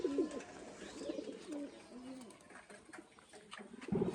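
Pigeons cooing at close range in a loft where the birds are kept, soft rounded coos repeating in short bursts, with faint voices in the background.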